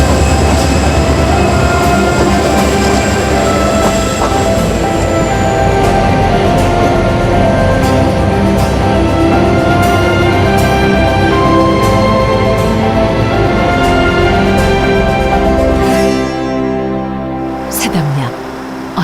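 A Mugunghwa passenger train pulls out of Samnangjin station on the Gyeongbu line, its loud, steady rumble and droning engine tones running unbroken before easing slightly near the end.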